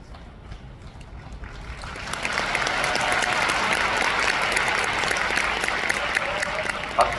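Audience applause for a PD's speech swells from a quiet start into a sustained, fairly loud burst of clapping that holds steady for several seconds.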